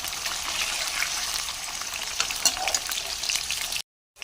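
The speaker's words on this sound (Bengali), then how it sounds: "পনির দিয়ে দিলাম, এবার হালকা করে ভেজে নেব।" Paneer fries in a pan of plenty of oil, a steady close hiss with a few brighter crackles, ending abruptly in a brief silence.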